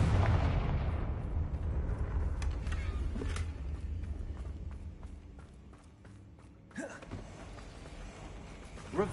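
A Confringo spell in Hogwarts Legacy bursts in a loud deep explosion whose rumble decays over several seconds, followed by scattered clicks, footsteps and a second sharp whooshing blast.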